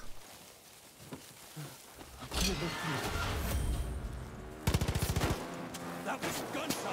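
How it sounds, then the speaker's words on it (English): Gunfire in the video game Far Cry: New Dawn, a rapid burst of automatic shots after louder rumbling action, fairly close amid game noise and people talking. "That was a gunshot."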